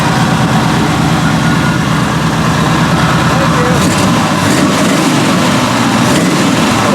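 A 2025 Lamborghini Revuelto idles loudly with a deep, rough rumble, rising slightly toward the end as if revved, close by.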